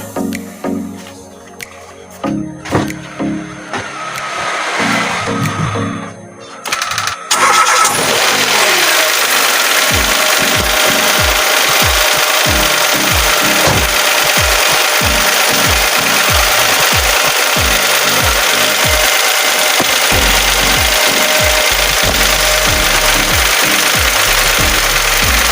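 Mitsubishi Mirage G4 engine after an oil change, a few cranking stumbles before catching, then a loud steady idle that runs on with a bit of knocking and uneven thumps.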